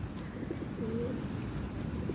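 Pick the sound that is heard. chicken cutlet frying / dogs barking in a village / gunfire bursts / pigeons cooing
pigeons cooing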